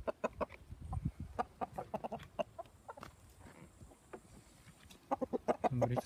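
Chickens cluck busily nearby while being given tomato, egg and salad, a flurry of short repeated calls from several birds with brief lulls, louder again near the end.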